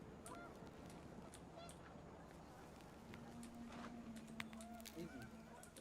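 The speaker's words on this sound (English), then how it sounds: "The wind picked up and panicked geese appeared and quickly went." Panicked geese in the video game What Remains of Edith Finch honk in faint, scattered bursts over a dense rushing wind and rustle, with a low sustained tone joining partway through.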